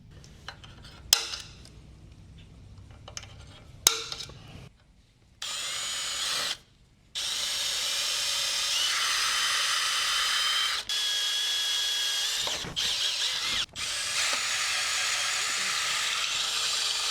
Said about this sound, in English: we'll punch these holes here and drill them all out to the correct size